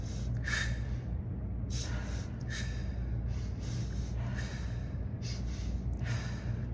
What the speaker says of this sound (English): Next breath in from the belly button, then the chest, and out.